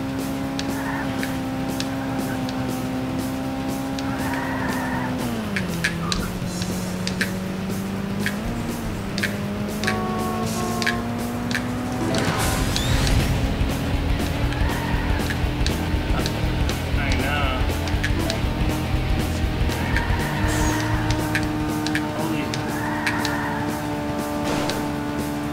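A white coupe crashes in the GameCube racing game Burnout 2: Point of Impact, with a loud burst of impact noise cutting through a steady, droning engine tone and game music that continue throughout.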